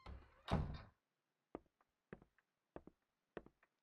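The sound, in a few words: door opening in the video game Period Cube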